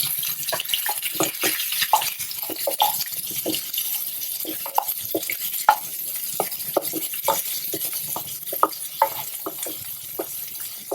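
Cumin seeds crackle and pop in hot oil with a soft sizzle beneath, the sharp little pops arriving irregularly throughout, fairly close.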